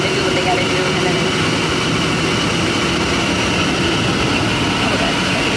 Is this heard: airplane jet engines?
yes